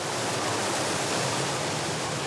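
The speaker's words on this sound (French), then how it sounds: "cette vague artificielle, créée par l'irrégularité du lit de la rivière" Artificial standing wave on a Munich river where surfers ride, formed by the uneven riverbed, a powerful steady roar of rushing water, loud, close and constant, with no talk.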